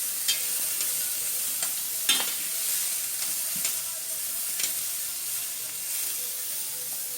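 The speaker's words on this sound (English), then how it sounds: "Here's the onions, sauteing." Onions sautéing in a pan for a Puerto Rican plantain jibarito give a steady close sizzle and hiss, broken by several sharp scrapes and clicks of stirring.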